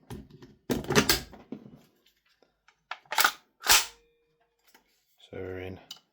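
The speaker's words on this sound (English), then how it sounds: "So we should be able to dry fire this now." A VFC AV74M gas blowback airsoft rifle being dry fired, giving a handful of short mechanical clacks and bursts separated by silence, with a brief voice near the end.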